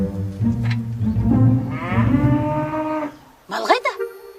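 Farm cattle low in a long, loud, drawn-out moo, then a short rising call follows after a brief pause, with rustling and low background noise underneath.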